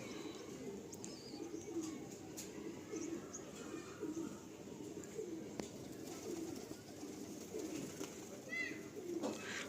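Adult Madrasi pigeons coo softly in a loft, low repeated coos with occasional chirps over a faint background murmur.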